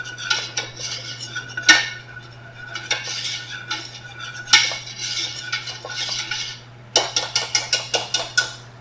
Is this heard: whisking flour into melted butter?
yes